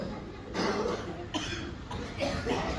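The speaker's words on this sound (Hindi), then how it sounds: "मेरी बात कुछ हजम नहीं हो रही, खांसी आ रही है।" A man coughs during a church revival gathering, several short, fairly faint bursts spaced a second or so apart over steady background noise in a reverberant hall.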